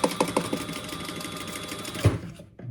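A sewing machine stitches pink thread on black fabric at a shortened stitch length, a steady fast mechanical whir with a few heavier knocks at the start, stopping abruptly near the end.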